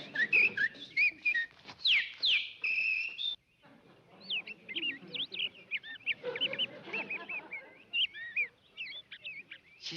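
A pet bird named Lady Bird chirps and whistles in quick repeated bursts, near and fairly clear, with soft indoor sounds between calls.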